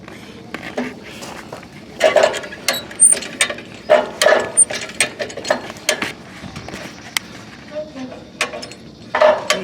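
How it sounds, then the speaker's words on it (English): A ratchet strap is cranked to drag a 1993 S10 4x4 Blazer with a flat tire. Clusters of sharp ratcheting clicks come in irregular bursts, close by, with people talking intermittently over them. "we have resorted to the ratchet strap too"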